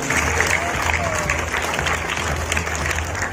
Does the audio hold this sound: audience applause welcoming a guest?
yes